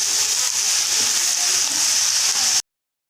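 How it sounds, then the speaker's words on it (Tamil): Chopped onions sautéing in hot oil with curry leaves, mint and coriander leaves for samosa filling, a steady close hiss and sizzle that runs evenly for about two and a half seconds, then stops. "கட் பண்ண வெங்காயத்தை சேர்த்துட்டு நல்லா வதக்கி விட்டுறலாம்"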